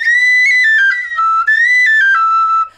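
A tin whistle with a wrapped bore plays a bright, high melodic phrase, the notes sliding and stepping down and then repeating, loud and close and heard alone.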